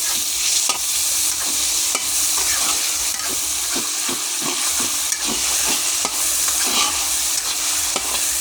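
Spices and cinnamon sticks frying in a pan under constant stirring, a loud dense sizzle with regular scraping strokes throughout, no speech.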